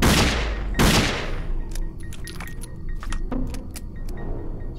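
Gunfire against zombies in a hallway in the video game Dead Effect: two big loud blasts open, followed by a scatter of lighter rapid shots and clicks, with no voices.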